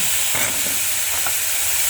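Papaya, potato, carrot, green chillies and peas fry with chicken in a wok for soup, a loud close sizzle with stirring scrapes and clatter.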